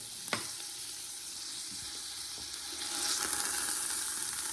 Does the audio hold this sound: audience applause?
no